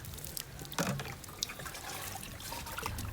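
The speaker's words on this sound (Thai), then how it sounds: "เสร็จแล้วเราก็ลดน้ำนะคะ เพิ่มความ ชุ่มชื้นให้ต้นไม้อีกนะคะ" Water trickles and drips steadily while a potted orchid is watered during repotting at home, a soft close pour running through the whole short stretch with a few louder splashes.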